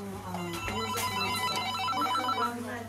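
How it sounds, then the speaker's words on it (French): Telephone ringing in a busy 35-seat restaurant at lunchtime, repeated bright electronic rings cutting through room noise, moderately loud, with voices talking underneath. "le téléphone n'arrête plus de sonner"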